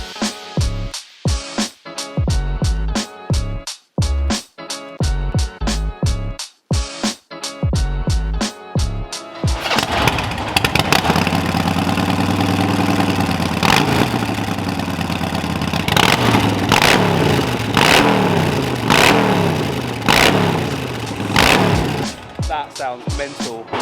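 A customised Harley-Davidson 883 Iron motorcycle and nearby cars rev hard, first in sharp separate bursts with gaps between, then merging into a sustained loud roar of overlapping engines, close by.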